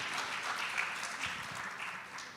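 An audience at an International Women's Day event claps in a steady wash of applause at moderate distance, sustained without break for a couple of seconds.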